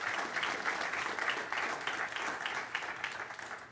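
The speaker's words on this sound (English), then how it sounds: "let's give Libby another round of applause" A church congregation gives a sustained round of applause, dense even clapping from many hands at moderate distance that holds steady for several seconds with no talk over it.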